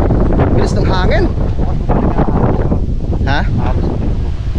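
Strong wind gusts across a tomato field, roaring steadily and buffeting the microphone with constant rumble, while brief voices cut through now and then.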